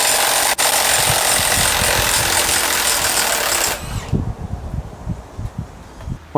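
A Milwaukee M18 high torque impact wrench runs loudly and continuously for about four seconds on a car's wheel nuts, then cuts off, leaving scattered clunks and knocks of handling.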